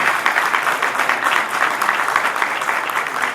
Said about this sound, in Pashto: تاسې ورته یو چکچک وکئ کبیر خان امیري ته